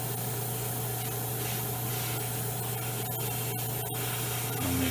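Steady airbrush-style hiss of spray paint on an Italeri 1/35 Leopard 2 tank model kit, a continuous even spray over a low constant hum, close and unbroken.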